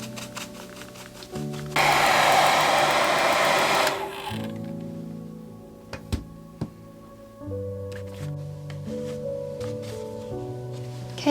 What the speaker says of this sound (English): I've just given it a blast with the hairdryer